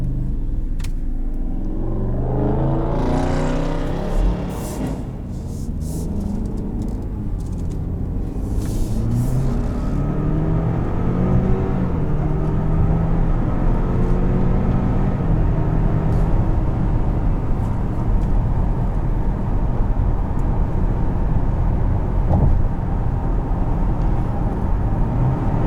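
A 2020 Buick Envision Premium cruises at highway speed, its cabin filled with a steady low road and engine rumble plus tire and wind noise, continuous and without talk.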